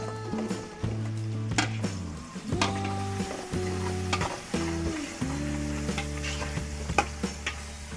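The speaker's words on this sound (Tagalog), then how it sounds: "Luto-lutoy lang po natin saglit yung ating panggisa" Chopped onions sizzle and crackle in hot oil as a Filipino sauté base, with steady frying hiss, close and moderately loud, while a utensil stirs and scrapes the pan in bursts.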